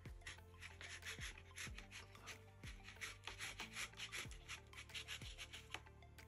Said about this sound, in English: I'm going to scrape in a circular motion.